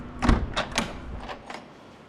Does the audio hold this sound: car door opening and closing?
yes